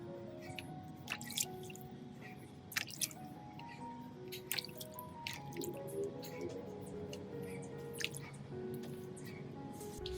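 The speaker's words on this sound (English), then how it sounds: "I'll rinse the orchid base with clean water." Orchid roots rinsed with clean water produce a steady stream of small drips and wet squishes over a low trickling background, close and fairly quiet, with irregular sharper droplet taps throughout.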